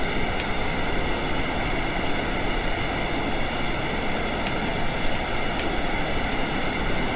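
Aircraft engines running in Kerbal Space Program, a constant loud droning roar with a faint repeating ticking under it, steady throughout with no talking.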